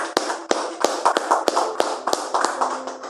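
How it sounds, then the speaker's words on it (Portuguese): A church congregation clapping together in praise, a brisk uneven patter of many hands with sharp individual claps standing out, close and lively over a soft murmur. "Palmas para Jesus."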